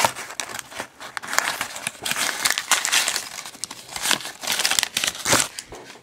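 Plastic wrapper of a Champions League trading card pack crinkles and rustles close to the microphone in irregular bursts as it is torn open.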